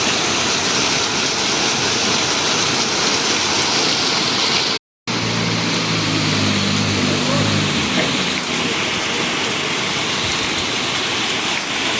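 Heavy rain mixed with small hailstones pours down in Dammam, Saudi Arabia, a loud, continuous roar of water striking surfaces that broken low engine-like rumbles join partway through.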